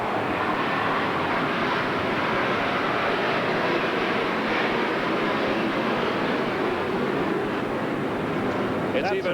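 A low steady roar of an airplane passing over a baseball stadium during a 1993 major league game between Atlanta and New York, a continuous broadband rumble that fills the whole stretch under crowd noise and broadcast commentary.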